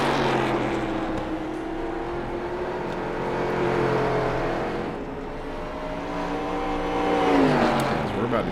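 Race cars lapping the Lernerville dirt track during a national series event, engines droning and revving as several cars pass, the roar swelling and easing in waves, with an announcer speaking over the noise.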